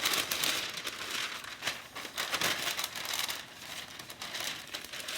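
Parchment paper is crinkled and folded by hand, a steady dry rustling with sharper crackles throughout, close and fairly loud, with no talking.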